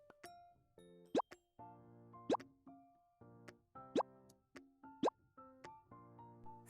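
Cork-handled self-inking stamps with cafe, sweets and cat designs pressed onto paper, giving about five sharp, close stamping thumps at roughly one-second intervals between quieter handling sounds in a hushed room.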